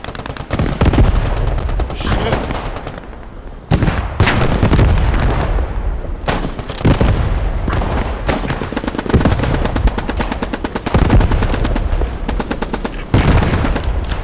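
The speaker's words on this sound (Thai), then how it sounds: "เสียงระเบิดกับเสียงปืนใหญ่ในเกมนี้ทำออกมาดังกว่าเกมสควอต" Explosions and artillery and gunfire fill a World War II battle in the video game Squad 44, with dense, loud bursts that go on without a break and several heavy booms standing out from the rapid shots.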